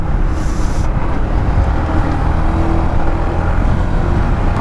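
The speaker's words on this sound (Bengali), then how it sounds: "ওই ফাঁকা রাস্তায় zero two hundred speed test করব যে কত সময়ে জিরো টু হান্ড্রেড হিট করতেছে" A Suzuki Gixxer motorcycle fitted with a racing CDI accelerates along an open road, a loud, sustained engine drone layered with heavy wind rush, with no talking.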